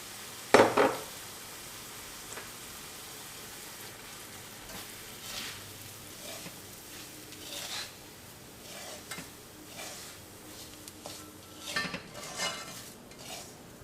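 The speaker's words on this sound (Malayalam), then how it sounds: "ഇതിലേക്ക് നമുക്ക് റവ ഇട്ടിട്ടൊന്ന് വറുക്കാം." Dry semolina rasps and scrapes in a pan as a spoon stirs it while roasting, with a sharp clatter near the start and soft intermittent scraping throughout.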